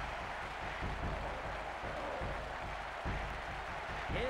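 A stadium crowd in the football video game ISS 98 roars and cheers after a goal, a steady wash of noise under speech.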